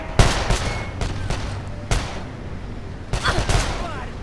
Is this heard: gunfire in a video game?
yes